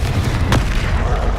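The Confringo explosive spell goes off in Hogwarts Legacy, a single loud, booming blast over a thick, rumbling low roar.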